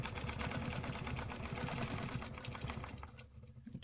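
A sewing machine stitches fabric with a fast, even mechanical chatter and motor whir close by, running steadily before slowing and stopping just before the end.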